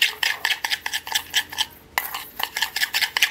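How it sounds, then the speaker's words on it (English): Rib seasoning being mixed together quickly in a bowl, a rapid run of rhythmic scraping and clinking strokes with a short pause midway, close and fairly clear, no voices. "So next we're just going to mix it all together."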